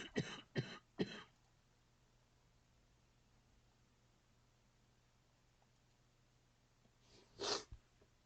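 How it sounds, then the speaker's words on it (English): A person coughs three times in quick succession, then falls silent before a final, louder cough and throat-clear, close by against a quiet background. "I'm having a coughing thing here."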